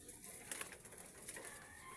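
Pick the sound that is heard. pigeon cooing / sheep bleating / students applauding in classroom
pigeon cooing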